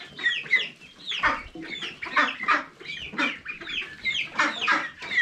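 Young chicks on a farm keep up a busy chorus of high peeping and soft clucking that overlaps continuously. The flock is close, with no talk.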